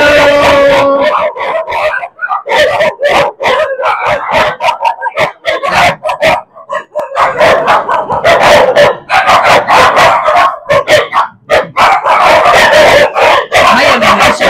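Several dogs barking repeatedly and excitedly at close range while visitors come to see them, with yips and a few whimpers in a dense, continuous chorus.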